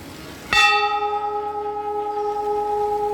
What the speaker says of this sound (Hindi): मैं घंटा बजा दूँ।